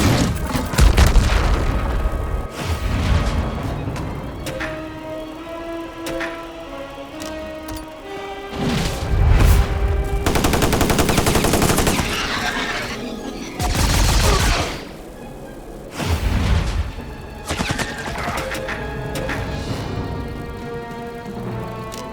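A tank attack in the strategy game Earth vs Mars, with repeated booming explosions and rattling bursts of gunfire rolling through the whole stretch. The volleys come in loud waves separated by brief lulls.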